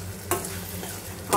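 Tomatoes frying in a pan for a tomato curry, with a steady low sizzle and two sharp scraping strokes of a spoon stirring them.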